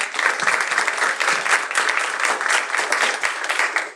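An audience at a school ribbon-cutting ceremony gives steady, full applause, many hands clapping densely and close for several seconds before it stops abruptly.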